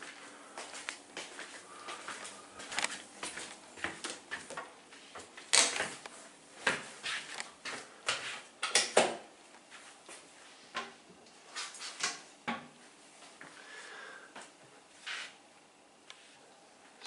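A closet drawer in a Geneva hotel room slides open and shut, giving a string of close, dry knocks and scraping clicks with short bursts of rattling, alone and no talk.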